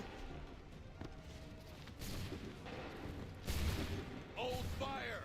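Musket volleys in Assassin's Creed III crash out as several loud, booming bursts from a line of soldiers, spaced a second or so apart, with voices and battlefield noise between them.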